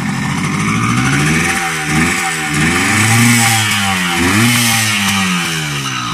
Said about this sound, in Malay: Motor masih hidup.